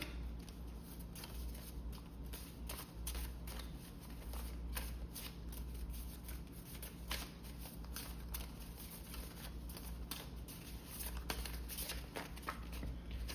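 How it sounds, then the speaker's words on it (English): Tarot cards are shuffled steadily and quietly for a long stretch, a soft continuous riffling patter with no talking. "So let me shuffle these."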